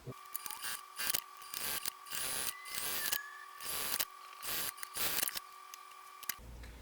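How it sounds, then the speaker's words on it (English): A sewing machine top stitches a small backpack's key ring and two straps in short, rhythmic bursts of rapid mechanical whirring, separated by brief pauses. "I'll also go ahead and top stitch my key ring and my 2 straps"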